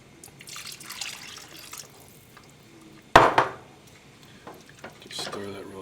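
A cup of water poured into a soup pot: a sudden splash and short gush of liquid, close and distinct, amid quiet kitchen clatter.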